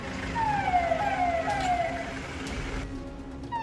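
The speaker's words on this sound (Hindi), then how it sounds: "गाड़ियों में सायरन बज रहा है" Police sirens wail in rising and falling sweeps from several police vehicles in a convoy with motorbikes in Uttar Pradesh, moderately loud over a steady traffic rumble.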